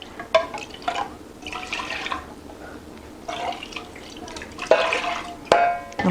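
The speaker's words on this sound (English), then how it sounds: "Just going to use some of that water to rinse it out." Water poured into a pot to rinse out coconut milk while cooking rice, heard as short separate bursts of pouring and splashing with drips, close by and without talk.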